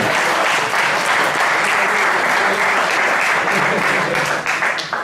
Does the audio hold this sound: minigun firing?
no